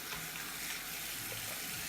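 Tap water runs steadily into a sink as dyed-wool felted soap is rinsed off, a close, continuous broadband splash with no pauses.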